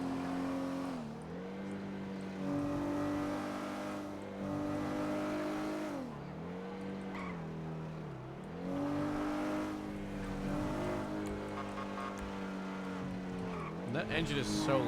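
A loud engine revs repeatedly, its pitch sweeping up and down in long rising and falling surges over about fifteen seconds, with a harsher burst near the end; voices can be heard beneath it.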